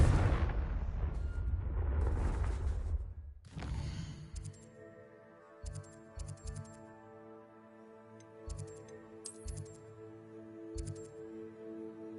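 A Confringo blasting spell in Hogwarts Legacy: a loud roaring burst of fire and blast lasting a few seconds, then a sharp crack followed by ringing, tinkling magical tones and light repeated impacts.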